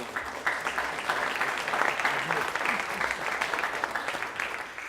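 Audience applause at a university event on free speech, a steady, fairly close wash of many hands clapping that holds evenly for several seconds.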